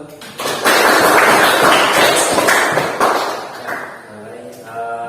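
Classroom applause breaks out, a dense burst of clapping from a group that starts loud, holds for a few seconds, then thins and fades out.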